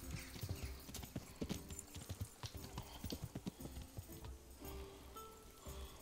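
Steady clip-clop of horse hooves in the video game Kingdom Come: Deliverance, a quick walking rhythm, fairly close, with a brief whinny-like sound and faint background noise.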